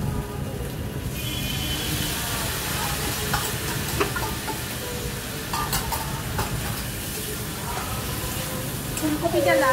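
Ginger and garlic stir-fry in a pan, a soft continuous sizzle with scattered scraping clicks of stirring, fairly quiet and steady over the whole stretch.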